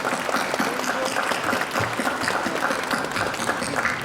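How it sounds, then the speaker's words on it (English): Audience at the Hong Kong Young Writers Awards ceremony applauds the secondary-school poetry nominees with steady, dense clapping that fills the room and holds at an even level throughout. "let's give them a round of applause"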